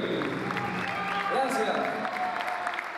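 A crowd applauds at a live show by a band, clapping mixed with cheering and a voice speaking over the noise, moderately loud and sustained.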